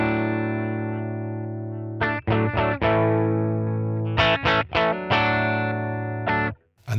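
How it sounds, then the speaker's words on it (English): Electric guitar through the Blues Breaker drive on a NUX Trident pedal sustains a thick, mildly overdriven chord, then rings out in several choppy strummed bursts, loud and alone. "And that's what a blues breaker does."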